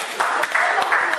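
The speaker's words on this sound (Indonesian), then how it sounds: "Ya, tepuk tangan buat Alif." An audience at a school event claps in a brief, dense burst of applause, steady and fairly close, with speech mixed in.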